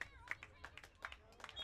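Faint, scattered hand claps come from the stands at a soccer match between Pleasanton RAGE and Olympic Club, sounding thin and distant as a few separate bursts.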